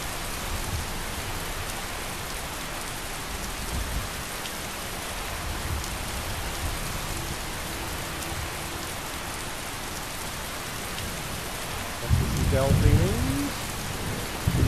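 Steady, dense rain falls in the Skyrim video game, a continuous broadband hiss of drops that holds evenly throughout, with a brief voice or louder low rumble rising near the end.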